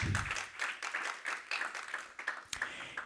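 Worshippers in a church clap for the Lord in short, uneven bursts, the claps close and somewhat sparse, with voices mixed in among them.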